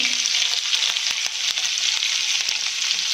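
Chopped ginger, green chili and garlic sizzle loudly in hot oil in a pan, a steady bright frying hiss with a few soft stirring clicks, close and unbroken.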